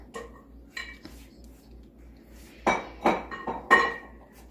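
A utensil scrapes wheat germ oil out of a container, making a few clinks and then several louder scraping, knocking strokes against the vessel, close and clear over a faint low hum.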